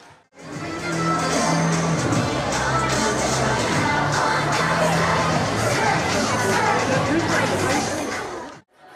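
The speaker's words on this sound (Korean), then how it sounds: "4층 먹거리층이 사람들로 북적이고 음악과 환호성이 울려 퍼집니다" A dense crowd murmurs and bustles loudly on a department store food floor in Frankfurt during a K-food event, with rhythmic music thumping underneath and occasional cheers rising from the din.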